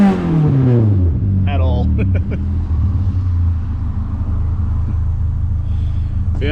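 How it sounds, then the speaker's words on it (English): A 1991 Honda CRX HF engine revs as its tires spin on grass, a loud low droning rumble with a falling pitch sweep at the start, and a voice speaks briefly over it. "these tires don't exactly hook in the grass"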